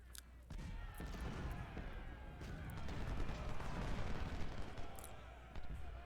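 Civil War musket and artillery fire at a river crossing in the strategy game Ultimate General: Civil War, a continuous crackle of distant volleys and thumps over rumbling battle noise, fairly quiet.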